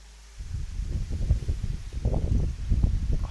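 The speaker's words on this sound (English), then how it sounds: "it's windy as hell" Strong gusty wind buffets the microphone with a low, rumbling roar that stays constant after a quiet start, with no voices.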